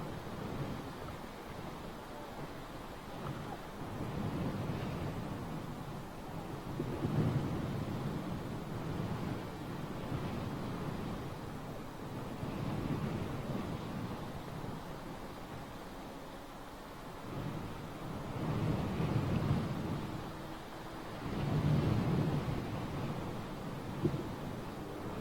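Wind at an East Midlands Airport plane-spotting site near a 747-8F cargo jet, blowing as a steady broadband rush with several louder gusts surging and easing, close to the microphone and without talk.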